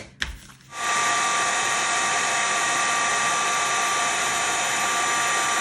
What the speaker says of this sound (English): You can just dust away any excess powder just before you set it with the heat tool